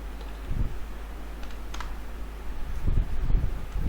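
Keys clatter on a computer keyboard in short bursts of typing, close and fairly soft, with no talking over them.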